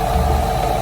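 A 2016 Ford Mustang 5.0 GT V8 with a knocking rod bearing runs in a brief, close, steady mechanical hum with a low rhythmic pulse.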